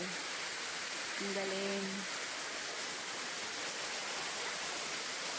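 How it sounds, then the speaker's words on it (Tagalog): Balagbag Falls, a waterfall with a natural bathtub-like pool, gives a steady, full rushing roar throughout, while a short exclamation from a person rises briefly above it. "ito sa yung falls sa Balagbag"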